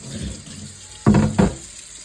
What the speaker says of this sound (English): And I'm gonna give it a little rinse.